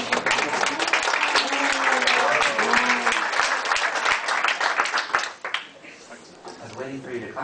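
A conference audience claps at length, a close, busy patter of hands with voices murmuring over it, fading out near the end as someone starts talking.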